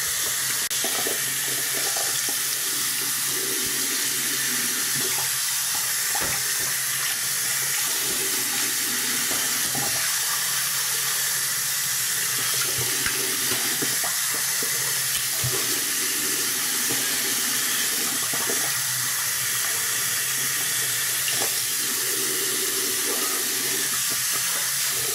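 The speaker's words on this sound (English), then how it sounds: "I'm gonna rinse my face off with some warm water." Warm tap water runs steadily from a faucet into a sink while a face is rinsed, a continuous close hiss with irregular splashing and no talk.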